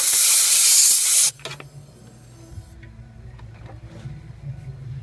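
Compressed air blows dust off the FICM module on a 2003–2004 Ford 6.0 Powerstroke, giving a loud, close hiss that lasts just over a second. Faint clicks and quiet handling noises follow.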